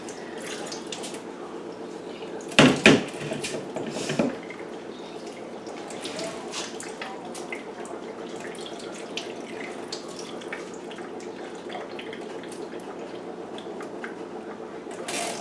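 Rice being rinsed under a running kitchen tap, a steady trickle of water with splashing and clattering of the pot near the start, followed by quieter flowing and dripping.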